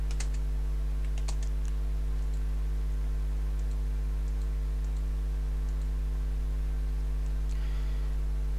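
Sparse keyboard taps and a few clicks while working in AutoCAD, faint and intermittent over a loud constant electrical hum, no voices.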